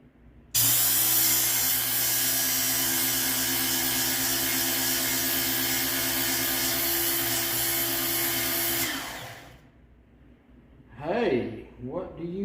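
A Work Sharp knife and tool sharpener grinds one side of a machete edge in a loud, steady whine with a constant pitch for about eight seconds. It then stops abruptly, and a voice speaks afterward.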